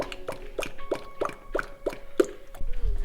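Oil glugs out of a bottle into a Mitsubishi Evo 7 in quick regular plops, about a dozen gurgling pulses over a few seconds, close and fairly quiet.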